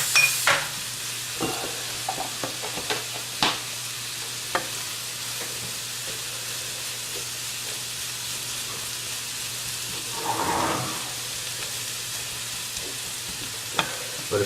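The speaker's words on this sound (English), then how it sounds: "Now we just kind of want to soften up the leeks in here." Leeks soften in bacon fat in a pan with a constant gentle sizzle, punctuated by scattered clicks and scrapes of stirring and a brief louder rustle partway through.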